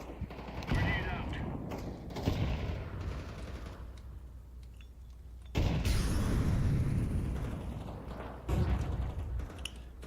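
Grenade blast and gunfire in the video game Counter-Strike 2, with loud bursts of booming impacts and shots in several waves, mixed under intermittent voice chat.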